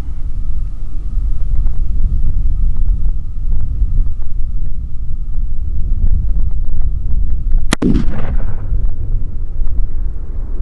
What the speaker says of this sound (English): it looked like he had shot right underneath of this deer